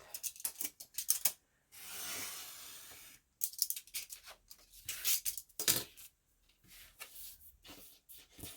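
Paper is cut for a junk journal in close, irregular snips and crisp handling rustles, with a longer slicing swish near the start and scattered sharp clicks after.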